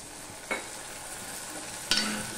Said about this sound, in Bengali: মশলাটা কষাতে কষাতে একটু জল দিয়ে দিলাম